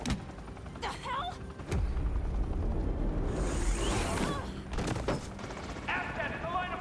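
Gunfire erupts in the video game Batman: The Enemy Within, a sharp shot near the start followed by a dense sustained burst midway and further scattered shots, with voices talking around it.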